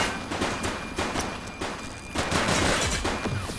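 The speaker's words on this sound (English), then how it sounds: "He's shooting!" Rapid, dense gunfire in a police shootout in the video game The Precinct, sustained bursts of close, loud shots with a short lull midway before the firing resumes even heavier.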